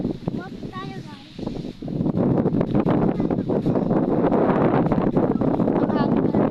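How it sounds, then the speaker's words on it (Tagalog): Wind buffets the microphone with a rough, continuous roar that grows louder partway through, joined by a brief chirpy voice-like sound early on. "Mahangin pala dito."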